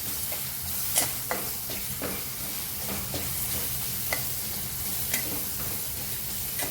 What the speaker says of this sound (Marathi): आता चांगलं परतून घ्यायचं आपल्याला तेलावरती